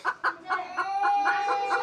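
A chicken clucks repeatedly in quick, rhythmic bursts, close and clear, with no talking.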